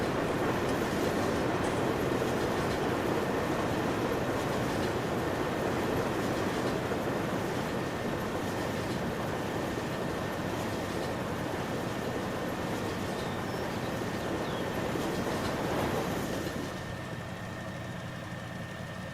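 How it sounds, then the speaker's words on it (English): A loud, empty freight train in Farming Simulator 19 rumbling past nearby, a continuous heavy roar of wheels and engine with a steady tone that drops off toward the end, no talking. "Damn, that's the loudest train I've ever heard."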